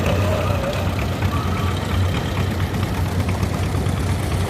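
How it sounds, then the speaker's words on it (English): A 1946 Allis-Chalmers Model C vintage tractor running at a threshing show parade, a steady loud low engine rumble with constant outdoor crowd noise and no clear voices. "Unit number 116 is the Alice Chalmers 1946 vintage Model C."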